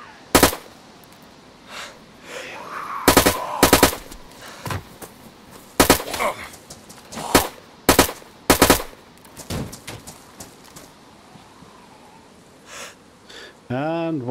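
Sharp, loud gunshots crack in irregular bursts during a firefight at the Balota military base in DayZ, some single shots and some quick doubles, with a speaking voice between them and a rattling burst near the end.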